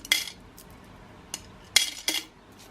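Coins clinking into a piggy bank, heard as four sharp metallic clinks, some fairly close together, against a quiet indoor background with nobody talking.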